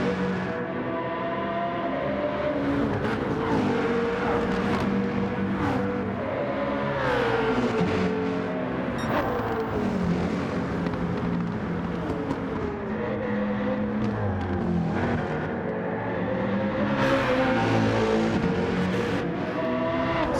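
Race car engines, including a small BMW Z4, whine and rev through gear changes during a league race, rising and falling pitches overlapping as several cars run close together, loud and continuous.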